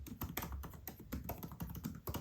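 Brisk typing on the scissor-mechanism keyboard of an Apple MacBook Pro 13-inch M1, with quick, close, crisp key taps in an uneven, continuous rhythm and no voices.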